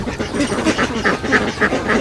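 Ducks on a duck farm quacking nearby, a loud run of repeated nasal quacks in a fairly regular rhythm, several birds overlapping with no talk.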